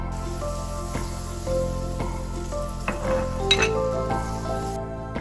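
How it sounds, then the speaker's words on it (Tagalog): Two tablespoons of butter melting in a skillet for Cajun shrimp pasta, giving a steady soft sizzle with light clinks of pans and utensils over a kitchen background hum. "In your skillet, just melt 2 tablespoons of butter."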